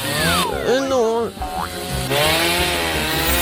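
A saw buzzes loudly and steadily in a playful prank setting, mixed with bouncy, cartoonish sliding tones and voices.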